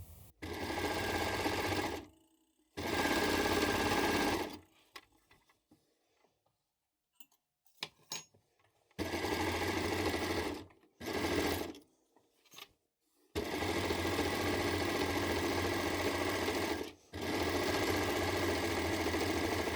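A sewing machine stitching a seam on an oversized hoodie runs in steady, loud bursts of a few seconds each, separated by short pauses and one longer quiet stretch in the middle.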